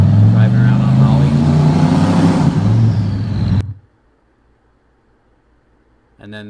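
A Chevrolet Colorado truck running on Holley engine management drives with a loud, close, low engine drone and rumbling road noise. The noise cuts out abruptly partway through, leaving near silence before a brief burst of sound at the end.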